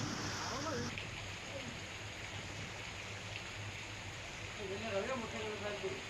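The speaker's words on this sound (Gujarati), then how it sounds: "પર્વત પર ધીમી ધારે વરસાદ વરસી રહ્યો હતો." Steady rain falls on Girnar mountain near Junagadh in Gujarat, a dense hiss with gusts of wind, while a voice speaks faintly over it.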